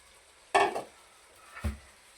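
Sliced ridge gourd dropped into hot fried masala: a sharp, loud sizzling burst that fades quickly, then a single scraping stir of a spoon in the pan.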